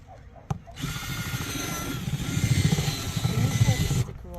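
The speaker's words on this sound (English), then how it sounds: "So what's the purpose of drilling holes? For the drainage, so the roots don't get root rot." Power drill boring drainage holes in a plant pot during garden planting, a steady loud whirring grind starting abruptly and running for several seconds before cutting off, close by.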